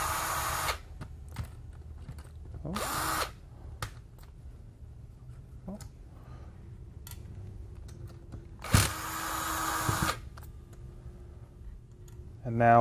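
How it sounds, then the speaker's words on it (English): Screws holding down a power board are removed from an old Classic chassis, heard as a few short bursts of whirring and clicking separated by quieter gaps with faint light ticks. "we're going to remove our 3 screws that are holding down our power board"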